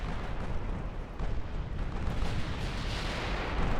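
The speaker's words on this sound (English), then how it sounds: "Torpedo salvo away." Naval battle in the video game Ultimate Admiral: Dreadnoughts, with a dense, continuous roar of gunfire and explosions as a torpedo salvo launches, loud and unbroken throughout.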